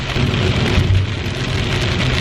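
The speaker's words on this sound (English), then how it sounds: "Rain. The rain." Steady, loud rain drums on a narrowboat without a break, a dense close patter with a low rumble beneath it and no voices.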